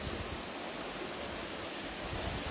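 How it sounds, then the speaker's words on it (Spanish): A waterfall pours in a constant, dense roar of rushing water, steady and unbroken, with no voices over it. "Una cascada chula para disfrutar"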